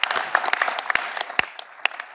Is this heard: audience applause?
yes